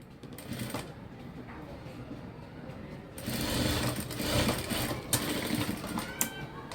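A domestic sewing machine runs in bursts while stitching the shoulder seam of a garment at half an inch, a close, rapid mechanical chatter that grows louder and steadier in the second half, with small clicks.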